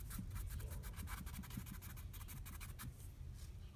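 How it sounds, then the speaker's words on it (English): A paintbrush works white paint over a sandal in quick, repeated strokes, a faint close scratchy brushing with an irregular rhythm and no voices. "just grab your white paint and your brush and just start going over the whole sandal"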